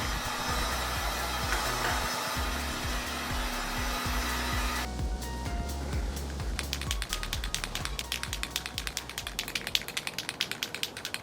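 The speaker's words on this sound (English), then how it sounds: "Heat gun!" A heat gun blows with a steady loud whirring roar while drying primer on a restored heat shield, then gives way to rapid, regular tapping clicks that continue to the end.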